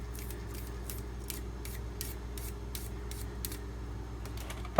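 A sharpening stone is flattened by lapping it with loose 60-90 grit, giving a steady gritty scraping hum punctuated by regular rhythmic rasping strokes, close and continuous with no talking.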